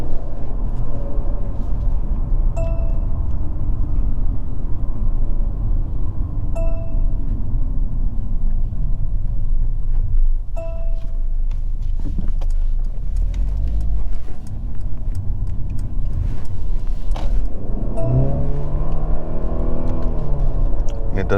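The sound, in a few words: 2022 Mercedes C300 4matic engine accelerating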